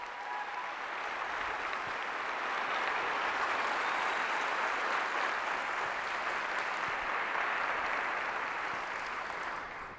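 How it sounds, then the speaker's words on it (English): A school district audience gives a big round of applause during a keynote, a broad even wash of many hands clapping at a steady moderate level, heard from a distance and holding for the full stretch. "So let's give my folks a big round of applause if you don't mind."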